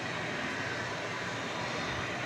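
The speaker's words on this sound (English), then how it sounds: "This is a Spirit Airbus A320." A Spirit Airbus A320 inbound from Los Angeles comes in to land at DFW at night, a dense, steady jet roar filling the short stretch evenly, close and loud, with no voices.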